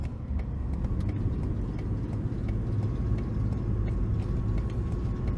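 A 2004 Ford Explorer XLS with a 4.0 V6 cruises steadily, giving a constant low road rumble and engine hum from inside the cabin, with no talk.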